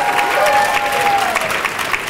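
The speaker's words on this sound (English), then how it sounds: "Round of applause, please, for David Elmer and DuSable Museum." Audience applause at a mayoral run-off candidate forum at the DuSable Museum, a dense, steady wash of clapping filling the whole clip at close range, with a faint sustained tone running under it for the first part.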